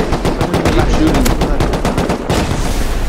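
Rapid automatic gunfire and heavy shots from weapons in the video game Rust during a clan raid, a loud, dense, continuous volley that fills the whole stretch.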